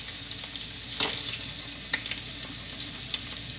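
Seared pork pieces and added vegetables sizzle in a hot pan with a steady, fairly loud hiss, marked by a few sharper pops and utensil taps, close up and without talking.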